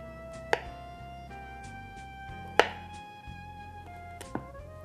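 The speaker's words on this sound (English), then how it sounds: "slice it into about half an inch slices" A knife slicing through bread dough into half-inch slices, three distinct sharp cuts landing on a board at uneven intervals over a faint background hum, with no talk over it.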